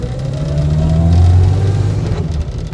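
A barn-find Austin A30 laid up for 52 years drives with a rough engine note that rises then eases off around a gear change, close and loud with no talk.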